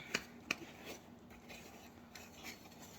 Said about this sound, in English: Pop your egg and get down to the bottom and mix it.